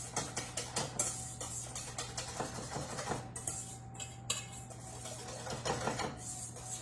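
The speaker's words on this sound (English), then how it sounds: "we're going to whisk this all together. Our sweetened condensed milk, our egg yolks, our key lime juice, and our key lime zest" Whisking sweetened condensed milk, egg yolks, key lime juice and zest in a bowl for key lime tarts: quick, steady ticking taps of the whisk against the bowl, fairly faint, with no talking.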